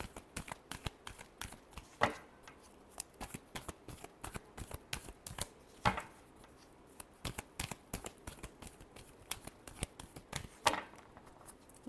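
Tarot cards being shuffled close up, a dense run of crisp, quick riffling snaps and flicks with a few louder slaps scattered throughout, no voices.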